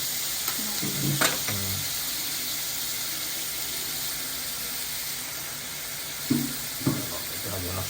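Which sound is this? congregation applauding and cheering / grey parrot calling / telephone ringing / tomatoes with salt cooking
tomatoes with salt cooking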